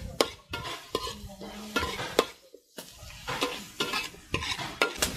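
Onion, tomato and green chillies frying and being stirred in a pan for butter chicken, with scraping stir strokes, clinks of a utensil against the pan and a steady sizzle throughout, close and fairly loud.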